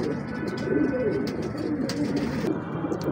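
Female golden pigeon cooing, soft low repeated coos over a steady room background, close by, with no talk over them.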